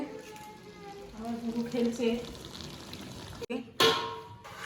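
Food sautéed in a pan at an outdoor night-time picnic crackles and sizzles under people talking, with a sudden louder burst of frying near the end.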